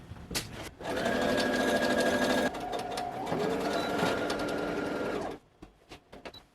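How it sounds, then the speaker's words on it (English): A sewing machine runs a top stitch along a drawstring channel on a costume robe, whirring steadily in two close, continuous runs with a brief change in pitch between them, then stopping with a few soft clicks. "So I'm going to do a top stitch about 1/2 inch all along to trap the drawstring in place."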